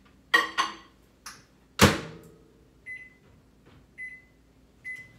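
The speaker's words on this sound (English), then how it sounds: "So I'm gonna put this in the microwave" A microwave oven set for 90 seconds, heard as a door clunk and a few soft knocks, followed by three evenly spaced electronic beeps, all close and fairly quiet.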